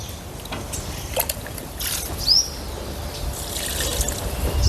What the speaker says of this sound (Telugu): ఇలా కొంచెం కొంచెం పోస్తే సరిపోతుందండి